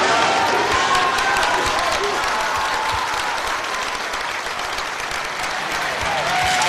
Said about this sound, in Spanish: Su gabinete, junto con sus abogados, lo recibieron con aplausos en la entrada del edificio de gobierno.